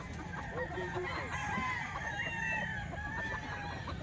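A young rooster (stag) crows close by, a drawn-out rasping cock-a-doodle-doo over farmyard background noise, with soft clucks around it.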